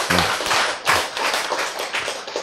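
An audience claps together in a lecture hall, a short run of scattered, fairly soft hand claps with no voices over them.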